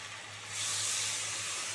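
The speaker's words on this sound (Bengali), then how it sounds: "এই জন্য এবারে আমি মিক্সি ধোয়া জলটা দিয়ে দিচ্ছি।" Rinse water from a mixer jar poured into a hot pan of taro and prawn curry, giving a steady close hiss that swells about halfway and holds to the end, with no talking.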